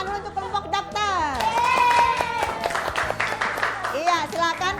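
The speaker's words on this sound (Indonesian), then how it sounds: "kita kasih tepuk tangan dulu untuk kelompok dokter" A classroom of primary-school children claps for the doctor group, a short burst of scattered clapping mixed with loud, excited children's voices.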